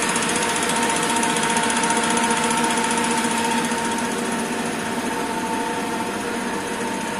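A Siemens 808 CNC lathe runs with a loud, continuous mechanical whine and buzz that holds steady throughout, close up and without pause.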